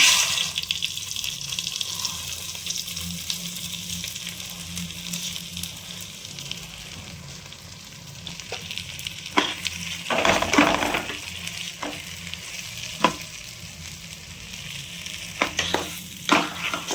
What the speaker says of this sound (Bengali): কিছুক্ষণ এইভাবে নেড়ে দেবো